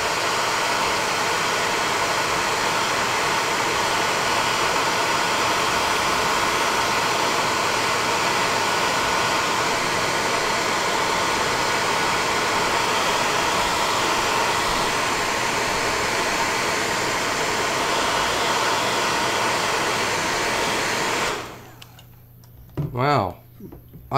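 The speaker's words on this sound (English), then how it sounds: "Let's try this blow dryer." A blow dryer drying paint on a D&D human cultist miniature runs as a loud, steady whooshing roar for about twenty seconds, then cuts off, leaving a brief voice at the end.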